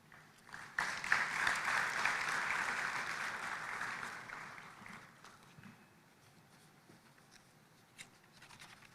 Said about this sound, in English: Let's put another round of applause for Dr. Hassan Kibea